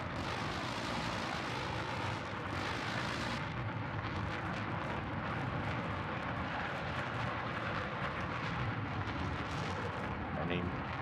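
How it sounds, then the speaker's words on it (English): Fighter jet roaring steadily in the Battlefield 4 video game, a loud, continuous engine rumble and rush of wind sustained throughout with no pauses. "So here we are in the jets."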